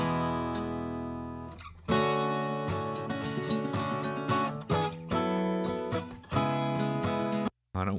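Processed classical guitar tracks in an acoustic mix, busy plucked notes and strummed chords ringing close and full, with a brief dropout near the end.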